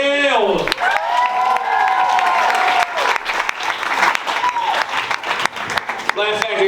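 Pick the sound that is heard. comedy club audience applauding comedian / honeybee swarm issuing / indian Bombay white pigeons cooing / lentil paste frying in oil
comedy club audience applauding comedian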